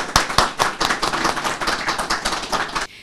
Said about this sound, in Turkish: bir alkış lütfen rica edelim